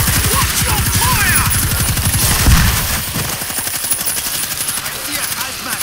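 Rapid automatic gunfire in World War Z, dense bursts of shots rattling close and loud for the first few seconds, then thinning into quieter scattered fire.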